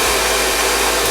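A Bio Ionic twin turbo hair dryer blows steadily and loudly up close, a constant full-band whoosh with a motor hum underneath and no voices.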